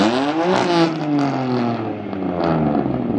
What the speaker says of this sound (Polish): Naprawdę głośny samochód.